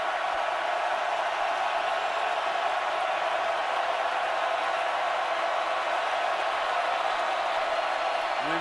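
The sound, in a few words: football stadium crowd cheering on third down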